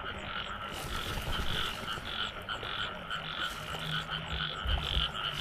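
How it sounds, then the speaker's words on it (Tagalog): Native field frogs croak steadily in a dense outdoor chorus, with repeated calls layered over a constant hum of night insects. "Yung native na palaka to."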